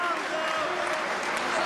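Wrestling arena crowd applauding and cheering after a match, a steady wash of clapping and crowd noise filling the space, with some voices mixed in.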